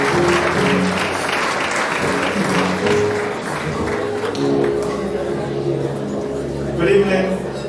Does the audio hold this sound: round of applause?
yes